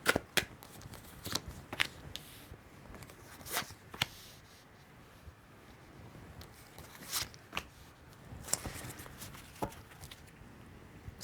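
Tarot cards being shuffled by hand up close, quick papery riffles and soft taps coming in irregular bursts, quiet and without talk.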